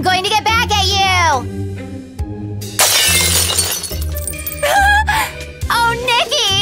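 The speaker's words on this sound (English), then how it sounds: "You smashed Mom's favorite phone!" A phone is smashed with a sharp shattering crash amid animated cartoon voices, with a child and other characters talking loudly before and after the break.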